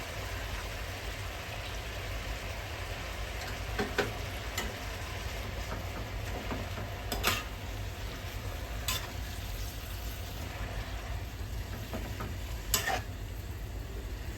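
Amaranth greens and egg stir-fried in a pan, a steady sizzling hiss with occasional scraping strokes of a spatula, close and continuous with no voices.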